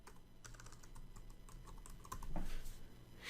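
Quiet clicking keystrokes tap out on a computer keyboard while text is entered into a spreadsheet cell in Excel, a short irregular run of close, light taps.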